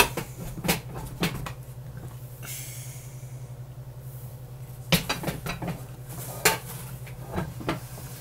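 Non-stick pans handled in a kitchen clink and clatter against one another in scattered knocks and scrapes, with a steady low hum underneath and no talking.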